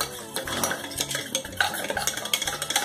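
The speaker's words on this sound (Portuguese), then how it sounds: "E você vai mexendo, misturando" A utensil stirs a pan pizza batter in a bowl, giving a steady run of soft close scraping and light clinks with no voices.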